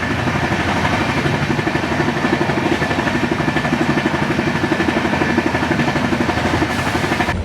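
Wheels of the 12882 Puri–Shalimar Garib Rath Express running on the track at speed give a loud, close, continuous rumble with a fast, even rhythmic beat and no voices.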